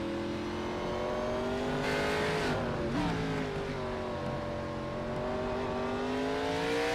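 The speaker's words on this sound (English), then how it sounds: "We're gonna listen to the gear changes and how much throttle he's putting into it and when he's putting throttle." Onboard engine of a race car in a sim racing game at the Red Bull Ring, a loud steady whine rising under throttle, dipping sharply at a gear change before climbing again.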